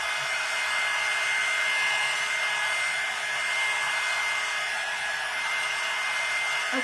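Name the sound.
hair dryer drying a painted coaster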